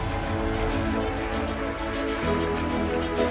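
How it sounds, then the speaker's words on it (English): Steady, dense applause fills a hall as an audience welcomes honorary degree recipients at a university ceremony, continuous and loud throughout without a break. "Let's welcome this evening's honorees with gratitude, love, and a warm round of applause."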